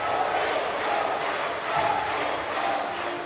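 Crowd noise from a packed parliament hall, steady broadband roar with raised voices like chanting of a leader's name and clapping, continuous and fairly distant throughout.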